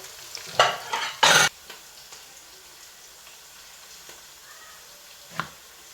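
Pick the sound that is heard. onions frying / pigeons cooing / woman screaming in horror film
onions frying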